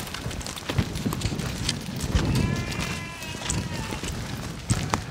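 A flock of sheep runs across a field toward a gate during herding, giving a continuous rustle and patter of many hooves with occasional faint bleats, fairly close and steady throughout.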